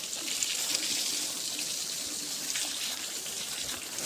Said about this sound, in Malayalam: നമുക്കൊന്ന് വെള്ളം അടിച്ചു വിട്ടാലോ ഫസ്റ്റ്?